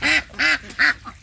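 Three loud, raspy female duck quacks sound up close in a quick series, trailing off into a softer fourth call.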